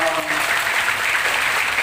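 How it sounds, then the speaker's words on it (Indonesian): A mosque audience at a sermon breaks into steady, dense applause, a close wash of many hands clapping with no pauses. "Tepuk tangan dong"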